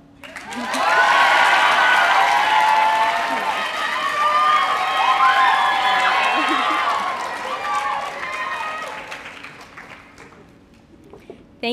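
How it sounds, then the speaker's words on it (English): A high school graduation audience cheers and applauds loudly, a dense swell of clapping and shouts with scattered whoops that slowly fades over about ten seconds. "Wait, cheer a little bit more."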